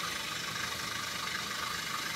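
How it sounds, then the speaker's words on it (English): A steady engine hum with a rattling, hissy texture runs continuously at a moderate level, with no pauses. "Engine sound."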